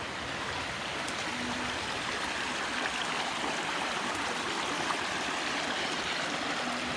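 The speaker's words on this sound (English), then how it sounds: "the water goes through the vegetation somewhere and comes out there" Rainwater running out through vegetation near a house by a river, a steady broadband rush and trickle with occasional drips, continuous and fairly close, with no talking.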